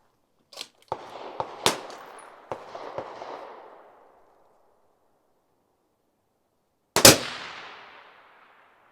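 Accuracy International AT-X rifle chambered in 6 Dasher, fired outdoors: several sharp, loud cracks in quick succession with a decaying rumble, then a pause and one more powerful shot that rolls away into silence.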